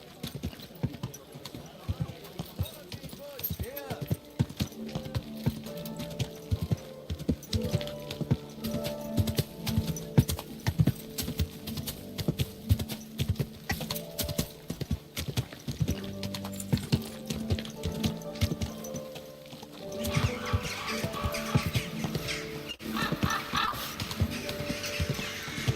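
Horse hooves clip-clop steadily in Kingdom Come: Deliverance II, a medieval video game, a continuous rhythmic trotting up close, mixed with game music and voices talking over it throughout.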